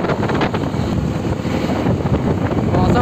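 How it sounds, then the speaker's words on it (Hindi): Wind blows across the open Uttarakhand hills, a steady loud rush and buffeting against the microphone outdoors, with no clear talk. "हवा चल रही है"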